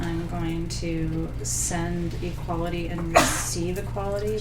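A single sharp sneeze cuts in near the end while a calm voice speaks over a steady droning background.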